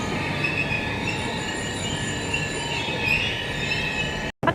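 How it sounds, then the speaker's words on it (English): A purple passenger train in southern Sweden rolls past with steady rumbling and high metallic wheel squeal, loud and sustained, ending in a brief cut near the close. "Did you know that in the south of Sweden, they have purple trains?"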